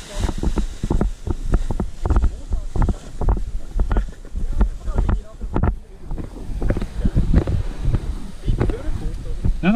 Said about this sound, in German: Spürst du, jetzt kommt dann der Wind.